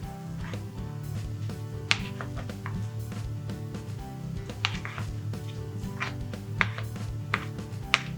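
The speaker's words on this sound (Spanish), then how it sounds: "cortamos el boniato que hemos asado previamente en daditos" Knife dicing roasted sweet potato into small cubes on a cutting board, a steady series of close, crisp chopping taps with a few sharper knocks, set against soft background music and no talking.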